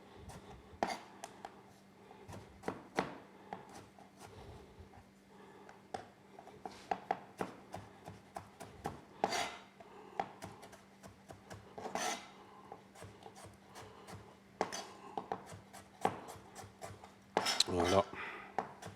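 A knife cutting cucumber into julienne strips, quick irregular taps and scraping rasps against a board mixed with faint clinks of utensils, fairly quiet and close.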